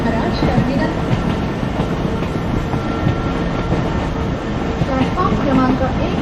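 In the Open Rails simulator, a slow Mumbai local train rolls into Masjid station, its steady rumble and wheel clatter loud and continuous, with a platform announcement voice running over it.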